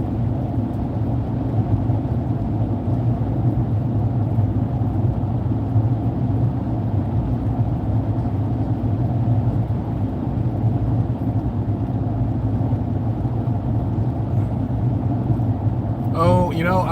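Steady low engine and road rumble fills a car cabin on a five-hour drive toward Phoenix, droning evenly throughout with a brief rise near the end.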